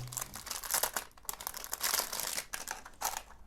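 Close, quiet crinkling of a plastic bag being handled, irregular rustling bursts with no voices.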